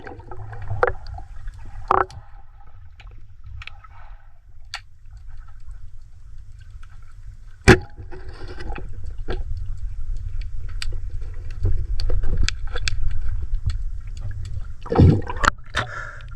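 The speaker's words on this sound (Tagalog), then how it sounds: "Tapos malakas yung agos yan mga idol. Pabalik ng tubig." A strong river current surges back, giving a steady low rushing rumble broken by gurgles and occasional sharp knocks and splashes close by.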